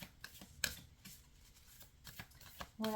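A deck of slightly sticky tarot cards is shuffled quietly and close by, with soft papery riffles and taps coming in short irregular bursts.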